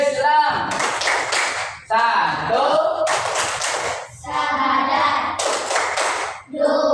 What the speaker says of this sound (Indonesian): kita nyanyikan dulu aspek yang kedua, yaitu tepuk rukun Islam